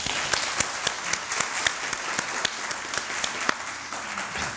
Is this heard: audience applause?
yes